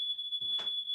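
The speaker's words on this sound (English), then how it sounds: "you're going to just leave me hanging here while your smoke alarm goes off?" A smoke alarm sounds as a steady, piercing high tone that holds for the whole second, with a brief muffled noise rising underneath it in the middle.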